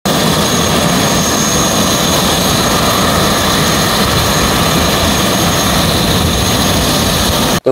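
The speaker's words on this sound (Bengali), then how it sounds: "আর হেলিকপ্টার সাউন্ডটি শুনুন" Helicopter taking off at Dhaka airport, a loud, steady roar of turbine whine and rotor noise that holds continuously and close up throughout, with no voices.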